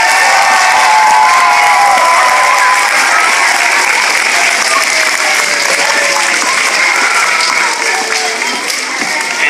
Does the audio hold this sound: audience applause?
yes